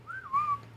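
A person gives a short single whistle imitating a strange noise, a smooth tone that wavers and then rises, heard close and alone in a quiet room.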